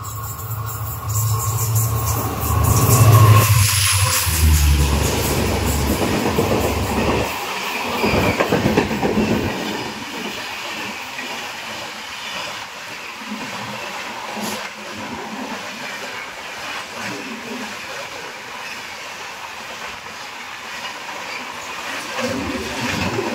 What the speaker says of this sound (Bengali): সামনে থেকে আসছে 12520 আগরতলা থেকে মুম্বাইয়ের পথে Mumbai AC superfast express LTT Mumbai.